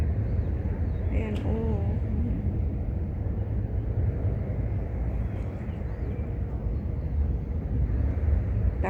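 An airplane rumbles overhead beside the Tung Chung waterfront promenade in Hong Kong, a steady low roar mixed with wind that holds throughout, with a brief voice early on.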